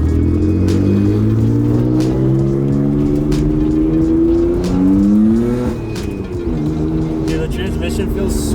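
A Nissan Skyline GTR with a Nismo short shifter pulls hard through the gears, its engine rising in loud, sustained revving sweeps with a brief dip at a shift before climbing again, close and steady throughout.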